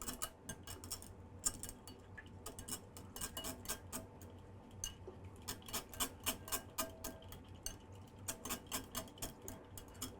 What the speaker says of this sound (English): Gonna whisk it.